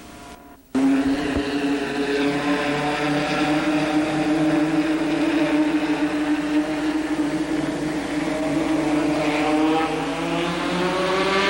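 ARTGO race cars at a 1985 Capital heat race restart after a yellow: a loud, sustained engine roar bursts in after a brief lull and holds steady, its pitch slowly climbing as the pack accelerates.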